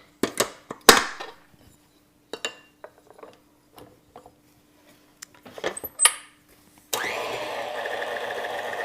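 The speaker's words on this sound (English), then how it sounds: "So let's get this on the mixer." A stand mixer kneads cinnamon roll dough: a few sharp clanks and taps as the bowl is set in place, then the motor starts with a steady, loud whirring hum that runs on to the end.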